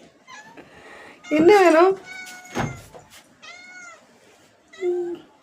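A cat meows loudly and repeatedly at home, begging for fish kept in the fridge. The close, insistent meows come in several bursts while a person talks nearby.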